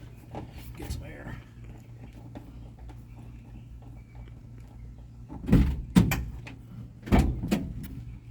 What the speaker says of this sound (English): Let me go open the back doors.